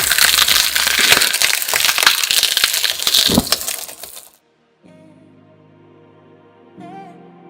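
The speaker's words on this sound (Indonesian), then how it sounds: "Roda pisau berbentuk heksagonal yang terdapat dalam mesin ini mampu menghancurkan barang dalam waktu sekejap." Fast shredder machine with hexagonal blades crushing an iPhone, a loud grinding and cracking burst for about four seconds, then an abrupt cut to quiet, faint tonal sounds.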